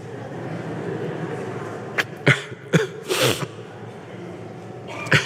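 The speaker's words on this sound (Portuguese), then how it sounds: "A criança está até tossindo também" A child coughs during a church sermon, several short, sharp coughs spaced irregularly, one quick pair followed by a longer harsh one, with quieter room noise between.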